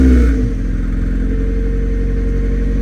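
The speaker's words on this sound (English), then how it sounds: "I'll start the car up now and I'll rev it a little bit" A Mazda Miata's engine cranks and catches, then revs steadily at a moderate, even level with no talking over it.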